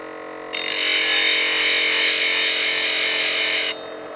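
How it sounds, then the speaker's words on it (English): A skew chisel is lightly pressed to a spinning grinding wheel, giving a loud, steady hissing grind for about three seconds over the wheel's constant low motor hum. "And we lightly touch the tool to the wheel."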